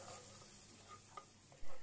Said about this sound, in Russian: А мы с вами поджарим курочку.